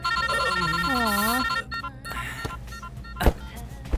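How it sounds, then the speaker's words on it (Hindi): In a Hindi-dubbed South Indian movie scene from 2023, a telephone rings loudly with a warbling electronic tone for about a second and a half. Quieter handling clicks and rustles follow. "अभी कौन फोन कर रहा है?"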